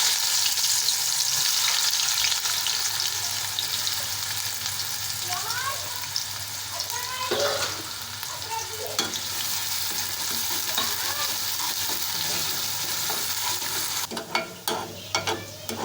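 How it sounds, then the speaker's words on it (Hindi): Onion frying in hot oil in a kadhai for aloo turai sabzi, a steady loud sizzle with occasional stirring scrapes, then sharper clatter of the spoon near the end. "हमारा ऑयल गरम हो चुका है, तो अब इसमें हम प्याज डालेंगे।"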